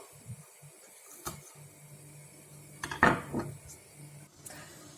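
Scattered metallic clinks and scrapes of a pan with chopped onions and utensils, one louder clatter in the middle, over a faint steady stovetop kitchen hum.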